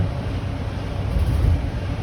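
Road traffic on the Bronx River Parkway, heard from the grounds of the Bronx Zoo, makes a steady, distant low rumble and hiss that swells slightly midway, with no talking.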